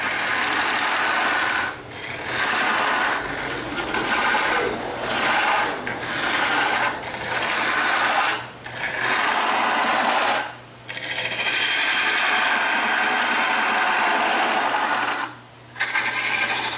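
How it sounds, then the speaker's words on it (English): A wood gouge scraping on a spinning lathe while shaping a coin funnel, a loud, continuous rasping hiss broken by several short pauses as the tool lifts off the wood, close up and without speech. "Using the gouge in a scraping mode."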